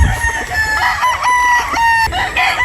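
A straight-comb Sweater Boston gamefowl rooster crows close by, a long tonal call with a rising and falling pattern, followed by a second shorter crow near the end.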